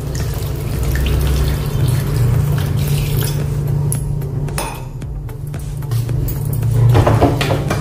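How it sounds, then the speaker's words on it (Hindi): Water is poured into a pan of peas and paneer curry, a rushing splash with metallic clinks of a pan and utensil, close at hand and without talk. "थोड़ा सा इसमें हम पानी डालेंगे अभी।"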